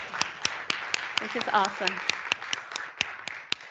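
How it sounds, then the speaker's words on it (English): A conference audience at a cartography plenary session claps for the speakers, a sparse, irregular run of individual hand claps spread over a few seconds while a voice speaks briefly in the middle. "May I invite you, all of you, joining me to give an applause to all our speakers"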